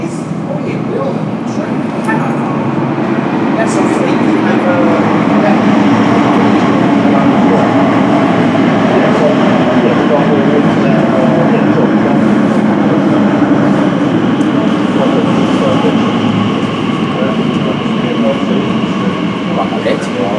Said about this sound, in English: Here comes that train.